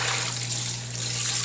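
Hot tap water runs steadily into a sink while dishes are washed, a close continuous splashing trickle over a low steady hum, with no talk.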